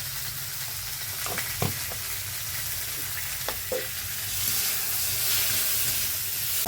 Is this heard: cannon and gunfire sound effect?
no